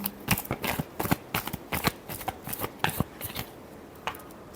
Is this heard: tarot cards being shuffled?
yes